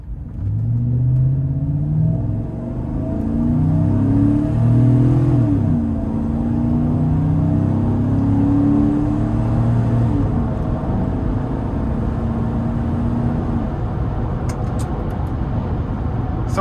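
A naturally aspirated 5.3-liter V8 in a 2011 GMC Yukon SLT pulls hard under heavy throttle, its low engine drone climbing steadily in pitch and staying loud and continuous from inside the cabin for about seventeen seconds.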